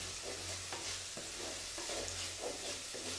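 A curry with small onions frying in a pan, a steady soft sizzle broken by regular scrapes and thumps of stirring, close but quiet, with no one talking.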